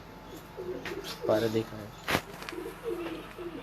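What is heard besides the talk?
pigeon cooing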